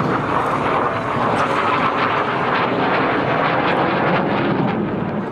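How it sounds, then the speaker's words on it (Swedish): A Saab S 32 Lansen reconnaissance jet flies past in a 1958 Swedish air force film, its engine a steady, loud, broadband roar that holds for several seconds with no voices. "S-32 Lansen är spaningsversionen av Saabs attackplan med mörkerspaning och havsövervakning som specialitet."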